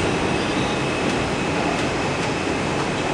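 A New York City subway train, a Bronx-bound 2 train pulling into Wall Street station, roars as a loud, steady wash of wheel and car noise close by, with faint squealing and rhythmic clicks and no talk.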